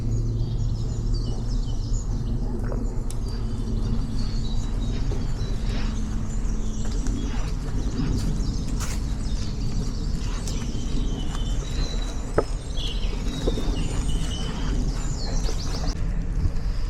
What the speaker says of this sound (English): Just love to go quiet for a minute and listen to the birds